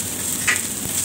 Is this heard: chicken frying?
yes